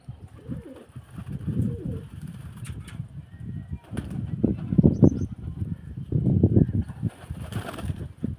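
Two-coloured pigeons, a black-and-white pair perched together, cooing in repeated low throaty bursts close by with soft rustling between calls.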